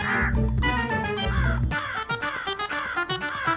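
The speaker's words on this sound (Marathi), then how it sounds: "एक कावळा हे सगळं पाहत असेल." Crow cawing close by, several loud harsh caws in quick succession, the later ones shorter and more clipped.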